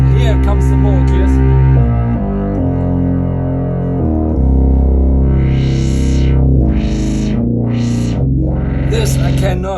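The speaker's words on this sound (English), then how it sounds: "And here comes the Moog, yes." A thick, heavily processed Moog Voyager analog synth plays changing low notes, with sweeping filter swells rising and falling in rhythmic waves, loud and continuous.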